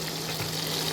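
Shrimp frying in a pan at about 130 degrees, a steady close sizzle with a faint low hum underneath, brief and continuous.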